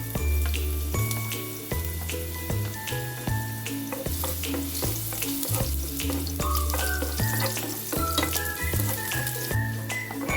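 Garlic frying in hot coconut oil, a steady close sizzle layered under a recurring low tonal pattern, with no voices.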